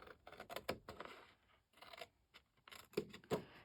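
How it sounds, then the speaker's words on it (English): Scissors snip through a pop-up card's cardstock up to a score line, a handful of short, close, quiet cuts in small bursts separated by brief pauses, with no one talking. "you just want to cut right up to that score line"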